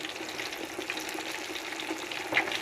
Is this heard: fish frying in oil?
yes